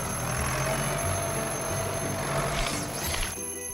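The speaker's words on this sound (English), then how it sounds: "That's just your alarm telling you to rest." A cartoon alarm clock rings in a continuous bright, trilling jangle, moderately loud and unaccompanied by speech, with a couple of rising whistly chirps near the end.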